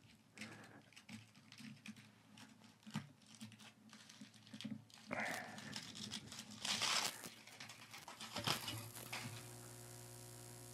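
Foil peeled and torn off a Parts Express 240-398 transformer: faint crinkling, tapping and ripping sounds in irregular bursts, louder rustling toward the middle, then a low hum at the end; no speech.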